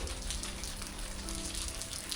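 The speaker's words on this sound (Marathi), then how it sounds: "मस्त पाऊस चाललाय." Rain falls on a village during the monsoon, a steady close patter of drops hitting surfaces with no voices over it.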